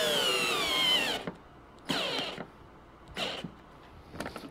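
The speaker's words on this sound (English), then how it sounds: "Put it in first gear, set in drill mode, and let's just pray it doesn't smoke it up" A Hercules cordless drill in first gear and drill mode runs in short bursts, a whining motor that spins up and down about four times with pauses between, close and moderately loud.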